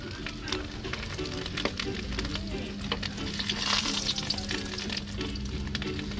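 Breakfast frying and sizzling in a pan at a resort in General Nakar, a steady loud crackle with stirring scrapes throughout, while people talk nearby.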